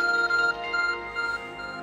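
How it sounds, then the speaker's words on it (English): A phone in the game Pokemon Legends: Arceus beeps with a bright electronic ringtone, a close, clear pulsing tone that repeats in short bursts over a soft background. "Dark phone's beeping."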